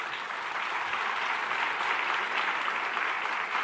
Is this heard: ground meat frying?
no